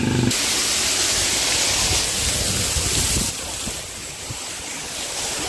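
A monsoon waterfall at Malshej Ghat pours down in a dense, loud roar that fills the whole sound, close by. The roar stays steady throughout and eases slightly partway through.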